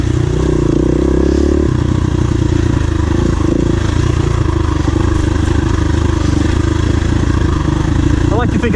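A KTM 350 EXC-F dirt bike is ridden on an off-road trail, its engine droning loud and steady close by, with revs rising and falling and rattling clatter throughout.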